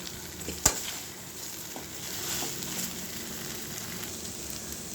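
Fried cabbage being stirred into cabbage manchurian in a pan, a steady sizzle with scraping spoon strokes and one sharp clank near the start, close and alone.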